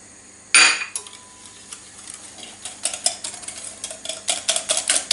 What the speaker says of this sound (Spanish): Vamos a batir para que se impregne bien, se deshaga el azúcar con los huevos.